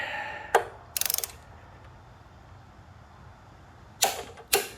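A torque wrench tightening a bolt on the front wheel of a Honda VTX 1300R motorcycle: a single sharp click, a quick ratcheting burst, then two more close, crisp clicks over quiet background.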